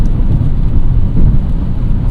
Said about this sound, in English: So I'm driving in the rain